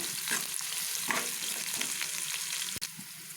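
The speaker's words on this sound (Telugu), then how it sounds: "ఇవి కొంచెం ఫ్రై కావాలి" Garlic and cumin fry in a pan for a Telugu chukkakura pappu (greens and lentil dish), giving a steady close sizzle with a few spoon-stirring scrapes, a brief click near the end, and no talking.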